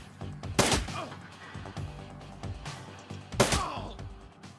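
Gunshots from thugs in the Shadowrun Returns video game, with two loud broadband bursts and a few smaller reports scattered between them, heard over a low game backdrop.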